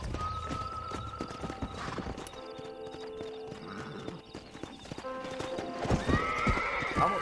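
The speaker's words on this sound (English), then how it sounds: "Ô, cavalo brabo da gota, mano." A horse in Red Dead Redemption gallops with rapid clip-clopping hooves and neighs sharply at several points, close and prominent, with faint game ambience behind.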